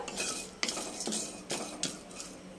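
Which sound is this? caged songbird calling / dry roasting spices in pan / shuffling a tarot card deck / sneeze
dry roasting spices in pan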